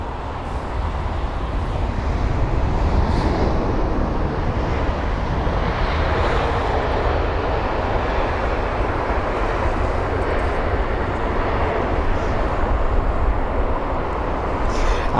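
A passenger airliner arriving at London Heathrow, heard as a steady, loud, broadband engine roar that holds throughout without voices.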